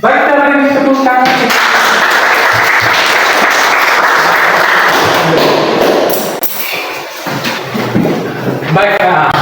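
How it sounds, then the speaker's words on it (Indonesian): Students applauding in a high school classroom after a group presentation, loud close clapping with some thumps, a brief dip in the middle, and voices speaking at the start and end. "kita beri tepuk tangan"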